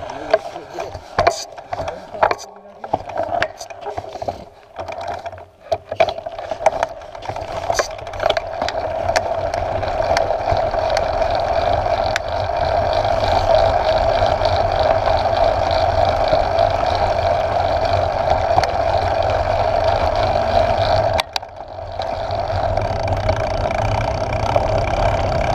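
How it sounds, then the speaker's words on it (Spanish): An off-road vehicle's engine revs hard as its wheel slips on a steep uphill track. After a choppy, broken start with voices, it settles into a loud, sustained straining drone that cuts out briefly near the end. "Se derrapa la rueda."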